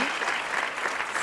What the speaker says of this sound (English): Give a round of applause, a warm welcome